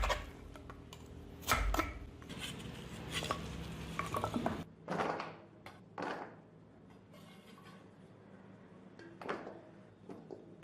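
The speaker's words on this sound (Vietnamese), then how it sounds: "Bây giờ mình cắt sợi ra ha." Kohlrabi, carrot, white radish and papaya are cut into thin strips, giving a string of sharp, close knife strokes and crisp slicing bursts with pauses between, fairly quiet and without speech.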